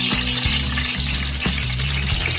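Mustard seeds sizzle and crackle steadily in hot ghee in a pot, a loud close frying hiss with scattered pops and a low periodic stirring scrape.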